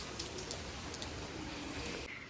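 Steady rain falls on a rainy day, a continuous soft patter of drops on surfaces, close and even throughout with no voices.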